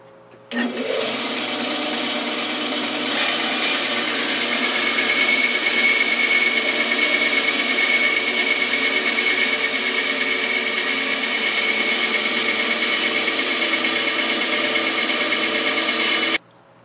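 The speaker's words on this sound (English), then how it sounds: "I put the fence on so we can start truing up the edges a bit and attempt to cut straight." A saw set up with a fence cuts persimmon wood, producing one loud, steady whine that starts abruptly, holds unbroken for about sixteen seconds, then stops sharply.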